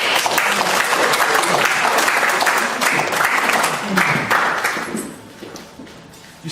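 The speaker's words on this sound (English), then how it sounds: "Give them a round of applause." An audience claps at a presentation, dense and loud for several seconds with a few voices mixed in, then tapering off into quiet near the end.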